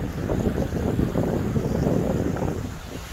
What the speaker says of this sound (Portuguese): Uma lancha lá.